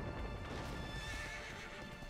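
A horse in the video game Dragon Quest XI whinnies loudly and clearly with hoof clip-clops mixed in, over a steady game background hum, with no talking.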